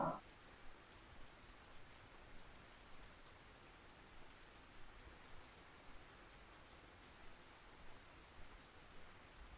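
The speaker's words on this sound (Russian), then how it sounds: "Блин, ливень-то не прекращается вообще ни в какую." Heavy downpour pattering on a river during a fishing trip in the game Russian Fishing 4, a faint even hiss of rain with soft recurring drops and no voices.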